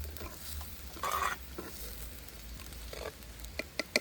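Fish curry ingredients with tamarind being stirred together in a pot, soft scraping and sloshing strokes in short bursts with a few sharp clicks near the end, close and fairly quiet.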